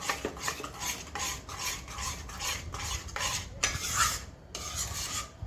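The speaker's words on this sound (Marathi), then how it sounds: "एकदम कमी गॅसवर आपल्याला हे हलवत राहायचं।" A spoon scrapes and stirs Mahim halwa in a pan over low heat, giving steady rhythmic rasping strokes at close range, with no voices.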